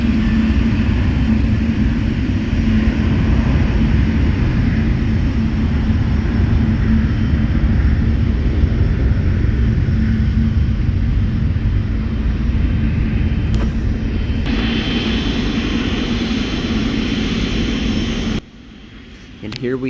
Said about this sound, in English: So this is a cargo 777.